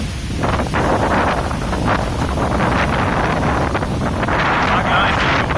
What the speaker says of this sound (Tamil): செம்ம காற்று அடிக்குது பார்த்தீங்கன்னா தெரியும்